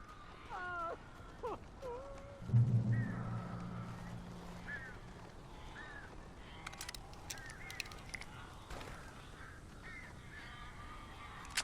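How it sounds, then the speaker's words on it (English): Birds cawing in the video game Alan Wake, several harsh caws and honk-like calls scattered through the scene, fairly faint over quiet game ambience. "These birds are weird."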